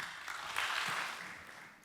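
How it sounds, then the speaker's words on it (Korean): A church congregation gives a short, warm round of welcoming applause as a pastor comes forward at a Sunday worship service. The clapping is soft and distant, blending into an even patter that swells slightly and then eases. "우리 홍장빈 목사님 나오실 때 우리 따뜻한 환영의 박수로 맞이해 주실까요?"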